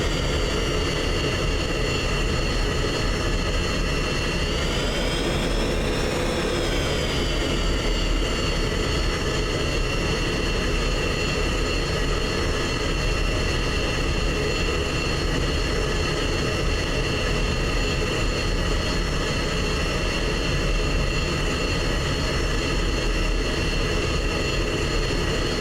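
Jet aircraft taking off in an F-16 flight simulation game: a loud, continuous engine roar with a steady whine that rises and falls in pitch midway through, with no voices.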